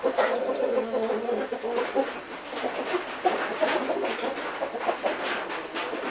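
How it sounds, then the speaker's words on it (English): Chickens sheltered indoors cluck and murmur softly in a close, enclosed space, with low continuous vocalising and occasional short calls over a background hiss. "I brought my chickens in here because I figured they'd be safer."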